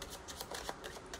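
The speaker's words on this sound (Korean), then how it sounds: "카드 뽑겠습니다." Quiet, rapid riffling and sliding of tarot cards being shuffled and drawn, a close, soft rustle of several quick flicks with no talking.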